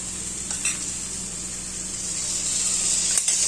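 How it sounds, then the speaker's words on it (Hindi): Browned onions fry with ginger garlic paste in a pan, giving a soft, steady sizzle and hiss throughout with faint stirring clicks and no talking. "प्याज ब्राउन हो गया है, तभी मैं इसमें अदरक लहसुन का पेस्ट डालूंगी"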